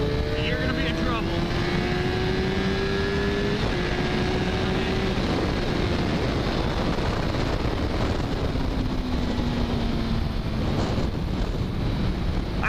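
A 2015 Suzuki GSX-R 1000 motorcycle accelerates hard toward 150 mph, its engine note rising through the gears beneath heavy, constant wind roar from the rider's microphone.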